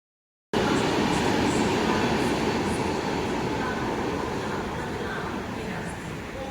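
After a brief silence, an express train roars past at speed through Prayagraj Junction without stopping, a loud continuous rumble with rattling that slowly eases.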